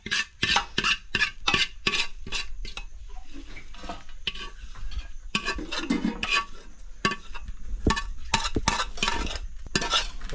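Vegetables for a village-style veg Kolhapuri being stirred and roasted in oil in a pan: repeated sharp scraping strokes of a spatula in quick bursts, with a soft sizzle between them.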